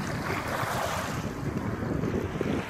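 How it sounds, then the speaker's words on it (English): Water spilling over Pickwick Dam on the Tennessee River, swollen after hurricane rain, makes a steady, broad roaring rush. Wind buffets the microphone throughout and no one speaks. "There's spilling water due to all that rain we've had from that hurricane"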